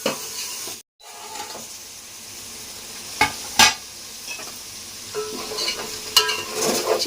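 Chicken fries with chili powder in a pan, making a steady sizzle broken by several sharp stirring scrapes and clinks against the pan, with a momentary dropout near the start.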